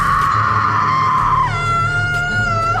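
A woman's high, sustained scream of agony in a crime film, one long loud wail that breaks and bends in pitch partway, over a low droning score.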